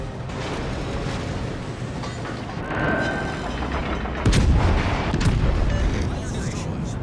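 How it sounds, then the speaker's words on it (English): Heavy warship gunfire in World of Warships, dense booming salvos and rumbling blasts layered over continuous battle noise, growing louder toward the end, with a voice talking underneath. "Concentrate fire on the enemy warship."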